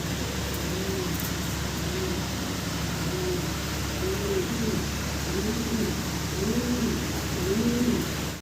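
A pair of Hungarian House pigeons coo in a steady, repeated series of soft, rolling calls that grow slightly louder toward the end, over a constant background hiss.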